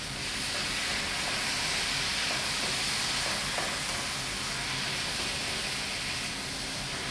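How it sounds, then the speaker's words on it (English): Onion sizzles and hisses steadily in a hot pan with curry powder, salt and pepper, a continuous crackling fry heard close up with no voices. "So you can hear that nice sizzle."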